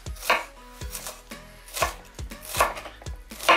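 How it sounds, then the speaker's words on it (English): A knife chops onions on a cutting board in a set of sharp, evenly spaced strokes, about six chops spread across a few seconds, close and clear, with no voices. "We finally chopped the onions"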